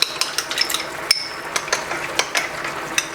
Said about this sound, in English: And then I'm just going to stir this all up.